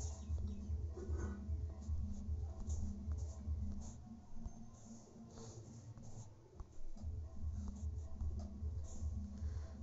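Pen or marker writing the word magnesium on paper during a Hindi science lesson, a quiet steady scratching with short strokes and pauses, close and faint, with no talk.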